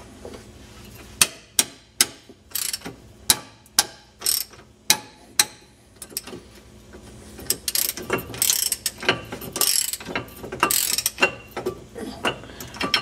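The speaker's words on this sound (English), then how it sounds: "So now I'm going to just remove these 2 bolts." A ratchet wrench loosens brake caliper bolts during brake and rotor work, a series of sharp, evenly spaced clicks up close, then faster, denser ratcheting and metallic rattling toward the end.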